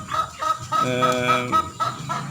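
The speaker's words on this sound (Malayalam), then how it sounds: "വിരിയിച്ച് ഇറക്കിയ ഒരു കോഴിയെ കാണിക്കാം ഇതാണ് എൻ്റെ വലിയ കോഴികൾ" A hen clucks in a series of short, close calls with one drawn-out tonal note in the middle, among backyard poultry that include crested birds.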